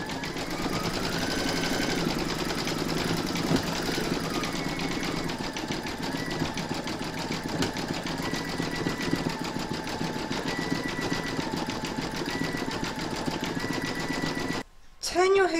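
An embroidery machine stitches facial features on a stacked pumpkin design in the hoop, giving a steady, continuous mechanical whir and rapid needle chatter for the whole stretch, with soft tonal background sound, ending abruptly.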